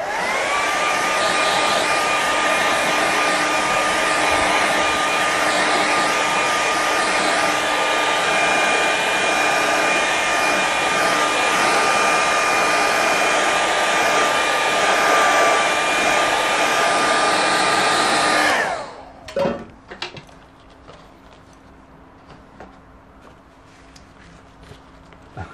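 A hair dryer runs steadily and loud, drying a watercolour painting, with a constant motor whine for about eighteen seconds before it cuts off, leaving faint handling noises and a low hum.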